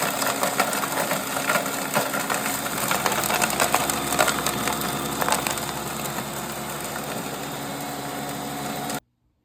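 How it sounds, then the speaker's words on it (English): Packaged cookies being blitzed into crumbs for a berry pie crust, a steady loud grinding whir with gritty crunching of chunks that runs for about nine seconds before cutting off abruptly; no talking. "we're going to grind it for our cookie crust"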